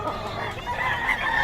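A WPC banded stag gamecock, an early bird, crows in one short, raspy call lasting under two seconds.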